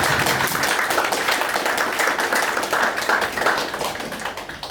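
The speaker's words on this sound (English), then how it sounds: "let's have a round of applause for all the kitchen staff that prepared that amazing food" Steady, dense clapping from guests at a memorial brunch, applauding the kitchen staff, a loud, even round of hands that keeps going throughout without a break.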